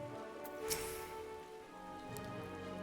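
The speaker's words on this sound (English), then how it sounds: "Yeah, it's also raining." Soft rain falls in Final Fantasy XIV, a faint steady patter under a quiet sustained ambient musical drone.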